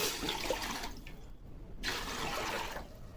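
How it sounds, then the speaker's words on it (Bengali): Water poured into a large bowl, ready for cooking rice for chicken dum biryani: a close, steady splashing rush that breaks off briefly in the middle, then resumes. "আমি প্রথমে গামলার মধ্যে জল দিয়ে দেবো।"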